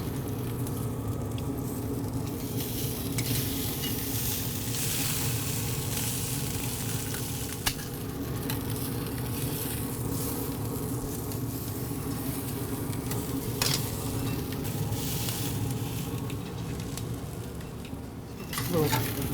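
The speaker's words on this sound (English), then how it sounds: "I'm going to let this sear about a minute on each side" A tomahawk ribeye sears in a hot pan with a loud, continuous sizzle that holds steady throughout, with a few faint clicks and a brief bump near the end.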